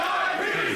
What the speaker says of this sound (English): fans are fired up for this one now